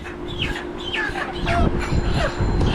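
Live chickens cluck and squawk in a crowded market, short rising and falling calls over a steady din of nearby bustle.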